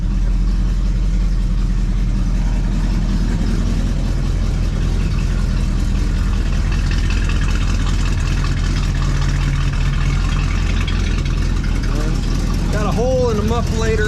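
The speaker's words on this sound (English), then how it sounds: "Got a hole in the muffler over here. Got a pretty decent exhaust leak." A 1973 Chevelle Malibu V8 with a holed muffler and exhaust leak idles close by in a steady, rough low rumble, while people talk over it.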